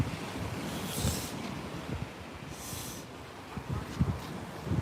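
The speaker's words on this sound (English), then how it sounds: "this is the beach" Waves wash up on a quiet tourist beach with a few people out, steady surf hiss under gusts of wind buffeting the microphone, with soft swells of breaking water recurring every couple of seconds.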